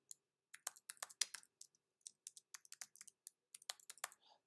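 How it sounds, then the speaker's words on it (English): A computer keyboard is typed on while a password is entered, producing a close, quiet run of crisp individual key clicks at an uneven pace against near silence. "Type in a password."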